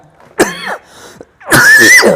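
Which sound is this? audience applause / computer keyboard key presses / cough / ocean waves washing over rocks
cough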